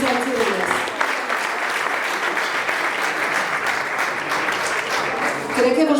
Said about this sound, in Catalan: Un aplaudiment per a Ferran Mora i Sergi Reyes.